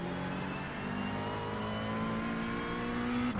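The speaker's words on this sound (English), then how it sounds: "It's not possible to get wheel spin like that." A GT3 race car at Spa in the iRacing sim holds a loud, continuous engine drone with a near-constant pitch, rising slightly toward the end, heard alone without speech.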